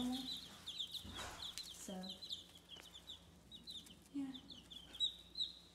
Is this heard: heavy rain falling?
no